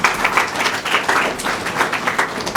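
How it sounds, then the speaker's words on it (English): Audience at a youth business program graduation ceremony breaks into sustained applause, a dense wash of many hands clapping steadily at close range with no talk over it. "Give yourself a round of applause for that."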